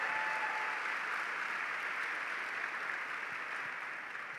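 Steady, dense applause fills a church congregation during a sermon, a soft even wash of many hands clapping that holds for several seconds and tapers slightly at the end.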